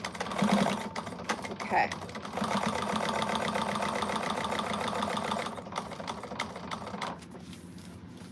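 Sewing machine stitching trim on with black thread for a quilted bag, a steady rapid mechanical whir that slows and stops near the end, with a brief spoken word at the start.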